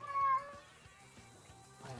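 A hungry house cat meows once, short and fairly clear, then the room goes quiet apart from faint background game sounds.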